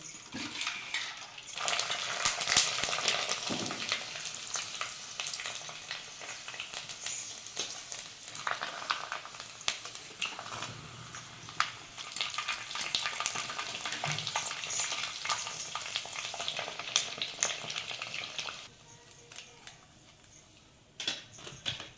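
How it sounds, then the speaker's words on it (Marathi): Papad (papdi) frying in hot oil in a home kitchen, giving a busy, crackling sizzle that runs steadily for most of the time with occasional metallic clinks of utensils before it quiets near the end. "आता पापड्या तळून घेऊ टाका"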